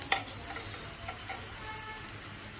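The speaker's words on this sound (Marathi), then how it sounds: "थोडं लसूण आपण चॉकलेटी होईपर्यंत परतून घेऊया।" Garlic sautéing in hot oil in a pan, giving a constant close sizzle with a few brief stirring clicks.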